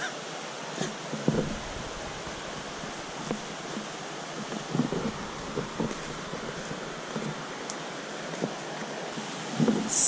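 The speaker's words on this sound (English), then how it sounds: "Hear the waterfalls." Waterfall at a hidden nature spot in Ghana, heard as a steady, moderately loud rushing wash of water with faint scattered bird calls and occasional light knocks.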